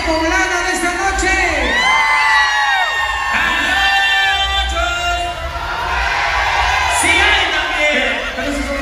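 At a Yaguaru live show in New Jersey, the crowd yells, whoops and cheers loudly in overlapping waves, with a brief dip in the middle before the noise swells again.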